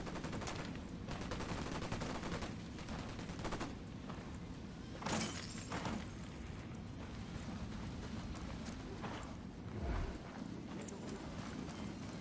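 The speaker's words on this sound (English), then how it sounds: "Taking fire from the checkpoint." Gunfire rings out from a checkpoint in Ghost Recon Wildlands, steady bursts of shots layered over a dense, continuous game din of hooves and ambient clatter, with a couple of louder reports standing out.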